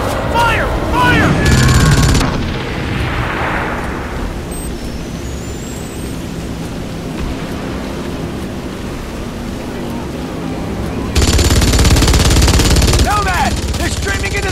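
Bursts of automatic gunfire from the video game Crysis open and close the stretch, loud and sustained, with a quieter battle-ambience lull in between while soldiers shout over the shooting.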